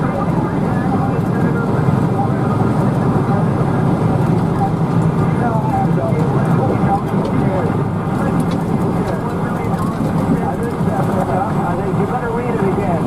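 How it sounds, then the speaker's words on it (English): Dense, continuous rotor and turbine rumble from the Marine One helicopter warming up on the South Lawn of the White House, loud and steady throughout, with voices faintly mixed in. "in the South Lawn of the White House with the helicopter Marine One warming"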